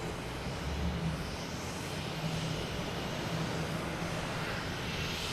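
A jet airliner in special New York Police Department livery arriving at Boston Logan Airport, a steady broad engine roar holding at an even level throughout, with no voices over it.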